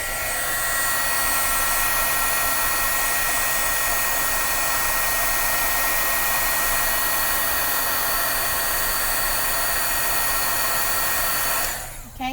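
A heat tool blowing steadily to melt colored embossing powder over ink, a continuous loud whirring fan hiss that runs unbroken for about twelve seconds before cutting off.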